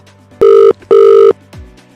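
Telephone bell ringing in a comic prank call setting, two long loud electronic rings with a short gap between them, followed by a faint low thud; no talking during the rings.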